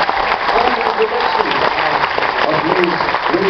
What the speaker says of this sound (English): We need a thunderous, huge, loud sound of a round of applause for the hardworking stage, light, and sound crew here at Boy Beautiful.